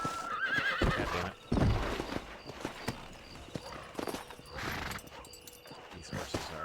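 Horses whinny and their hooves clip-clop on a trail in the Red Dead Redemption western video game, with a loud neigh near the start, a scattered trot of hoofbeats throughout and faint game voices and noise underneath.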